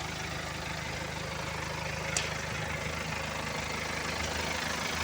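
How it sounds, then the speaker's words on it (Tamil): A BMW 320d diesel engine idles steadily up close after coolant work in a repair garage, a continuous low, even throb with faint knocking and no talk. "வண்டி ஓடிட்டு இருக்குது."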